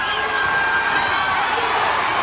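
A New Jersey boxing arena crowd cheering on heavyweight Al Cole during a fight, a steady, loud roar of many voices that stays high and continuous throughout.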